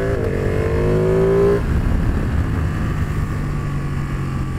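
A Ducati Panigale 1199 motorcycle in race mode runs loud and close, its engine note dropping after a brief rev, then settling into a steady deep rumble.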